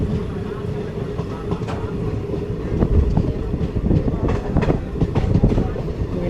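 A train travels from Palakkad toward Pollachi as it nears Meenakshipuram station, with a steady low rumble and rolling wheel noise, faint clicks and rattles, and a swelling roar through the middle and end.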